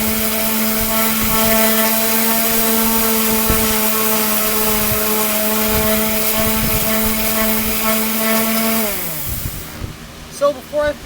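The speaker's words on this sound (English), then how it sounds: "So now we can go ahead and sand off this portion here." A power sander works on a 1926 DL&W rail, giving a loud, steady motor whine with a strong hum that runs for most of the time, then winds down near the end, leaving a few scattered knocks.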